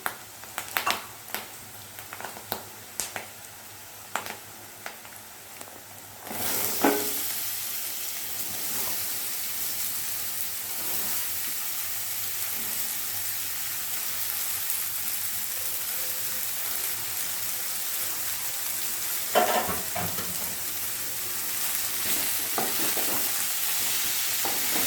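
Pieces of bottle gourd drop into hot oil, and the loud frying starts abruptly, then keeps up a continuous sizzle. A spoon stirs them now and then with scraping sweeps near the pan.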